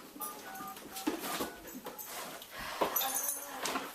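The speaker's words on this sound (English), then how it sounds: "there's a dog out there and it looks sick" A sick dog whimpers from outside in a film scene, thin high cries and whines coming in uneven bursts over a busy, noisy background without talk.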